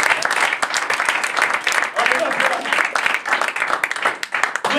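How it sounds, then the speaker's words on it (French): A church congregation claps and cheers for the Lord, loud, dense applause running throughout with voices mixed into the crowd noise. "Est-ce qu'on peut acclamer pour le Seigneur?"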